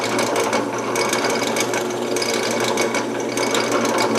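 A drill press runs while drilling cabinet handle holes, a loud continuous mechanical whir with rapid ratcheting, gear-like texture throughout.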